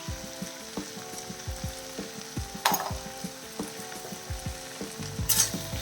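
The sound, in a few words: onions sautéing in a pan for a broad beans stir-fry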